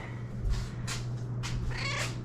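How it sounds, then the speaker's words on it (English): A cat meows several times near a garage door, the short rising cries repeating over a steady low engine hum. "Silly cat."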